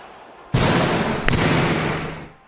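A hand slams a mahogany desk: a sharp, loud bang followed by a long booming reverberation, with a second smaller crack partway through before it fades out.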